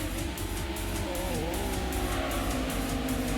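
A race car in the PS1 game Gran Turismo drones at a steady high engine pitch, held flat out with a slight dip and recovery, loud and continuous with no voices.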